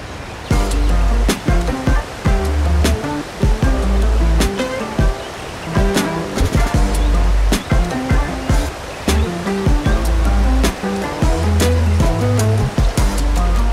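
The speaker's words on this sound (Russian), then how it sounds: "Называется это место Малиевецкий водопад" The Maliivtsi waterfall in Ukraine roars steadily nearby, and thumping low tones pulse through the rushing water the whole time.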